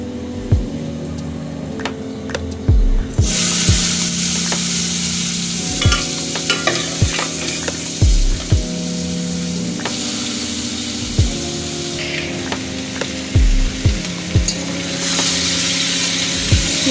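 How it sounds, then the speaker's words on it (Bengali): Masoor lentil mixture frying with garlic in a pan on medium flame, a loud steady sizzle of hot oil with repeated scraping stir strokes and spatula knocks throughout, no talking. "রসুনটা ভাজা হয়ে গেলে এবার এই ডালের মিশ্রণটা দিয়ে দিচ্ছি।"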